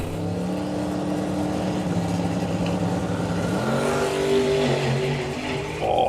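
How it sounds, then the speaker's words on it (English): A drag racing car at Bug Jam runs at full throttle with a steady, continuous engine roar and rising pitch as the revs climb, loud and sustained with no talk over it. "a little bit of tyre chatter there"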